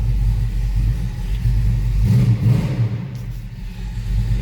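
A 1956 Ford F100 pickup street rod engine idles with a deep, rumbling tone and swells briefly in a short rev before settling, heard close up with no voices.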